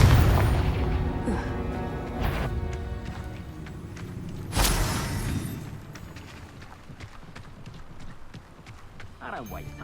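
A Confringo fire spell bursts in the Hogwarts Legacy video game as a sudden loud boom partway through, set among game sound effects and hoofbeat-like clatter, with voices speaking over the action.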